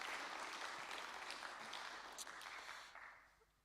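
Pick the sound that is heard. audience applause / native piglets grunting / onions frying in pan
audience applause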